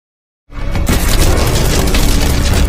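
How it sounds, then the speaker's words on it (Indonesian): Gunfire in a gangster film scene where a gang member suddenly opens fire on security guards: a loud, dense booming burst kicks in after half a second of silence and keeps roaring without a break. "yang paling arogan bernama Jan tiba-tiba melepaskan tembakan yang membuat 2 petugas keamanan di sana tewas"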